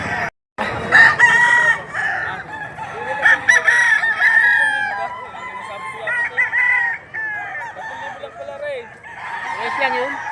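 Many chickens cluck and a rooster crows at a busy, crowded poultry market in Padre Garcia, Batangas, with overlapping calls close by and voices mixed in.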